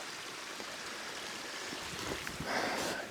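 A creek flows beside a main trail, giving a steady, close, broadband rush of running water that swells slightly toward the end, with no talking.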